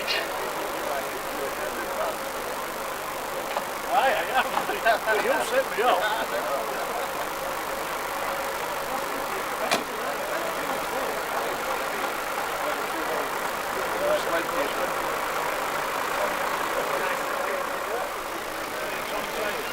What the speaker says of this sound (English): this 1980 Bedford TML four-wheel tractor unit